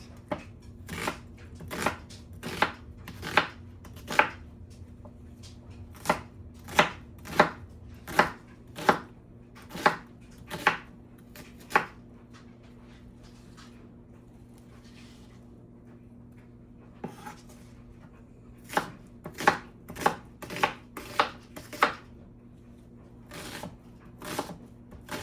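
A knife chops food on a cutting board while preparing roasted chicken, beans and potatoes for meal prep, with crisp, close strikes landing in irregular bursts and pauses, alone without talk.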